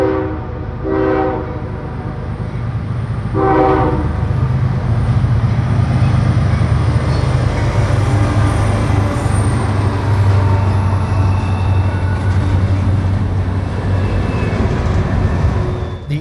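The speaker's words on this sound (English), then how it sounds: "The SD40-3, bracketed by the pair of Jivos, is a nice surprise in our mix of catches, certainly adding a good bit of noise as they work their way south through the mountains." A CSX freight train led by GE locomotives with an SD40-3 in the middle works south through the Blue Ridge Mountains, a loud continuous diesel rumble with two short horn blasts early on, and nobody talking.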